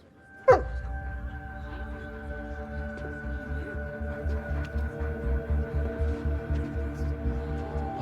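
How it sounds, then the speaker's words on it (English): A dog lets out one sharp, loud yelp, then keeps up a strained, whining whimper with pulsing rhythm over a steady hum for several seconds, with no talking. "Get this dog off of me."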